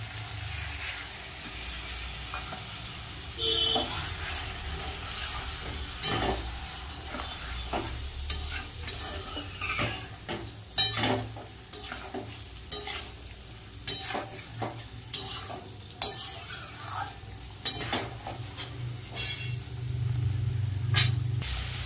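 Masala spices sizzle in a pan for a long stretch, with repeated scraping and knocking of a spoon as they are stirred and fried, all close and without any speech.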